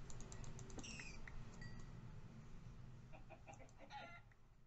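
Chickens clucking in a video game world, a steady stream of short fowl calls and chirps over a low constant game ambience, no talking over them.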